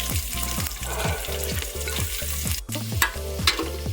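Chopped onions fry in ghee with bay leaf and garam masala, a steady loud sizzle, while a spatula scrapes and stirs in a regular rhythm of repeated knocks against the pan.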